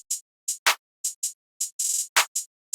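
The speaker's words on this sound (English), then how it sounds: "I have this Luca Babe clap out of the Starstruck multi-kit again" A basic programmed clap pattern built from a Luca Babe clap sample in the Starstruck multi-kit, heard as sharp, dry electronic claps in an uneven beat rhythm, some doubled into quick rolls, loud and alone.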